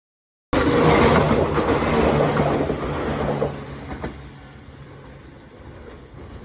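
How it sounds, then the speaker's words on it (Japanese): A Nagareyama Line train approaches near a level crossing, a loud rumbling rush that swells right away and then gradually fades, with no voices. "いきなり電車が近づき、慌てて動画を起動しました。"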